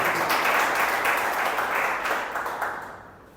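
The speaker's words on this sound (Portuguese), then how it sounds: "Dê um aplauso a Jesus por isso." Congregation applause in a Portuguese-speaking church service, many hands clapping in a dense, even burst that gradually fades toward the close.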